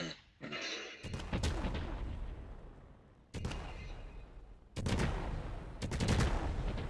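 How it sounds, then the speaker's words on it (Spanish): Rapid bursts of fireworks explosions in the video game Fireworks Mania, with houses blowing up in dense crackling volleys that keep going in loud waves separated by brief lulls. "Están explotando todas las casas."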